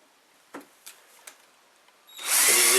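A power drill for a DIY CNC build gives a few faint taps and short bursts, then spins up into a loud, close, steady whirr in the final second. No voices are heard.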